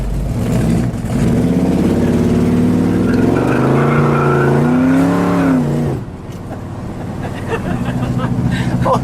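The 360 cubic-inch engine of a 1979 Dodge Li'l Red Express pickup truck revs up and down in a loud, rising and falling roar, then settles to a lower rumble, with people talking over it.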